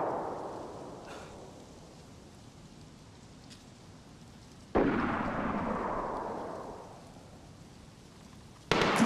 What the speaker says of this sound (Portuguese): Tô atirando nele.